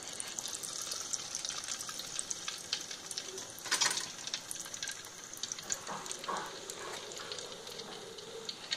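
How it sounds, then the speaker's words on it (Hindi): Pieces of fish fry in hot oil in a kadai, giving a steady, dense sizzle throughout with a few brief splashes and crackles, close and fairly loud, with no voices. "अब हम इनको फ्राई कर लेंगे"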